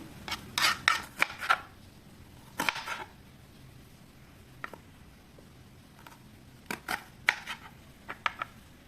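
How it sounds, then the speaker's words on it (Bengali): A knife cuts onions on a board while chicken sticks are prepared, with clusters of crisp, close tapping and scraping strokes that come in bursts, separated by quieter pauses. "এরপরে আমরা পেঁয়াজ কেটে নিচ্ছি।"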